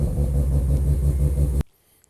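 A Mazda RX-7 FD rotary engine fitted with new ignition coils, idling with a steady low rumble for about a second and a half before it is abruptly shut off, leaving near silence.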